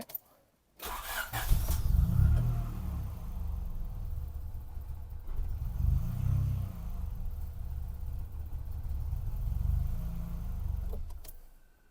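A car starting after the owner redid its timing belt, with a quick crank catching into a steady, fairly loud idle that runs on for about ten seconds with slight rises in engine note, alone without talk.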